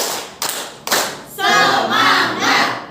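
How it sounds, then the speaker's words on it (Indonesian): A group claps in counted rhythm, with a few sharp single claps followed by a loud, voiced crowd shout that rises and holds. "Tepuk 1. Tepuk 2. Tepuk 3."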